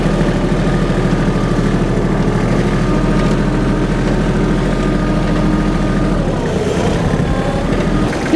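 A Kubota GT-23 mini tractor's small engine runs steadily at idle, close by, with a constant low drone that holds unchanged throughout and no talking over it.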